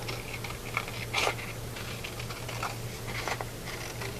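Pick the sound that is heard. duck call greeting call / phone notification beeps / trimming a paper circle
trimming a paper circle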